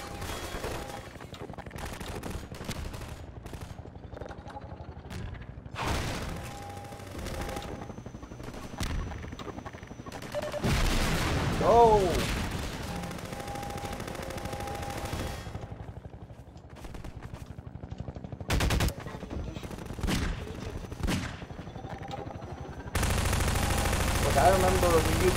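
Bursts of gunfire from Half-Life 2: Episode Two, with rapid automatic shots and louder single blasts scattered across the stretch amid game noise, with a voice talking in between.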